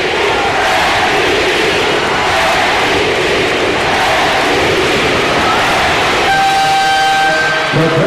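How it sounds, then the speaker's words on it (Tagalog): A capacity crowd in a basketball arena at the finals roars and chants in a dense, loud, continuous wash of voices that fills the hall, with a faint whistle-like tone rising near the end. "This capacity crowd chanting, wanting Pingris to bag finals MVP"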